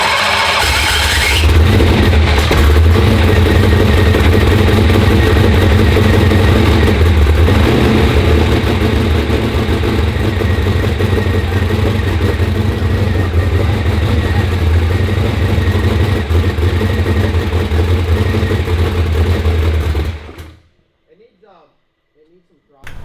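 A tuned engine with weak fuel pressure runs loud and steady for about twenty seconds under voices, then cuts out abruptly to near silence.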